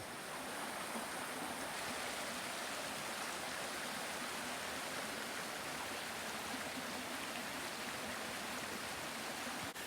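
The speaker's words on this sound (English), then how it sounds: "mostly this trail follows the creek, kind of all the way down." A creek flowing beside the Appalachian Trail gives a steady, loud, broadband rush of water that fills the whole stretch without pause, with no voices over it.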